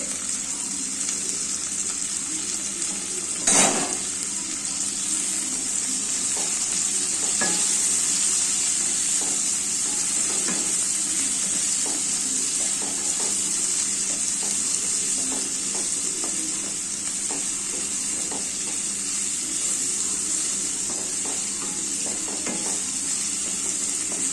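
Onions and curry leaves sizzle steadily in a hot pan for the whole stretch, while a spoon scrapes and stirs through them again and again. There is one louder clatter early on, and no one speaks.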